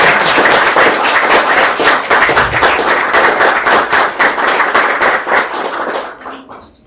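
An audience breaks into sustained, dense applause at the close of a live-streamed presentation on gender violence and migration, holding loud and even before tapering off quickly at the end.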